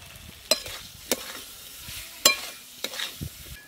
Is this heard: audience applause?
no